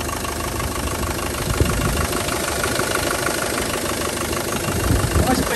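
A warm 1999 Land Rover Defender 90 with the 300TDi diesel engine idling, steady low clattering diesel rumble with a fast even knock, heard close up under the open bonnet and continuing unbroken throughout.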